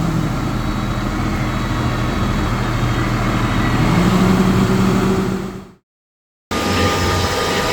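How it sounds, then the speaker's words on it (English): A loud, steady engine drone with low rumbling from a tractor driving on a road, cutting out briefly near the end before resuming. "They ask, why am I driving a tractor on the road?"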